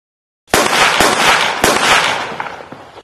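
Diwali firecrackers burst in a rapid cluster of loud, close pops, several sharp cracks in quick succession that trail off into fainter crackles.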